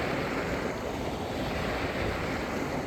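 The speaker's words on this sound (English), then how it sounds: "Man, those waves are huge." Continuous roaring surf on a lake shore in Southern Ontario with heavy wind noise buffeting the microphone, big waves crashing steadily close by.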